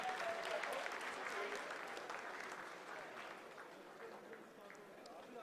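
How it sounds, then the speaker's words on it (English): People in mission control applaud during the Chandrayaan-3 lunar landing descent, a soft continuous patter of clapping that gradually fades, heard fairly distant and quiet with voices mixed in. "Lot of applause"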